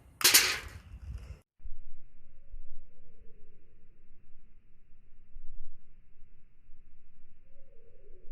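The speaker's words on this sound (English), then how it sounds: "I can hit the pan out from underneath the egg and the egg will drop right down in the glass" A single sharp crack as a pan is struck out from under an egg balanced over a glass in a physics demonstration, followed by quiet room tone.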